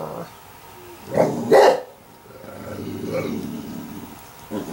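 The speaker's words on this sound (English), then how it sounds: "Grr, dog, grr." Dog growling and then giving a couple of sharp barks close by, set against a quiet indoor room, with a short low rumble afterward.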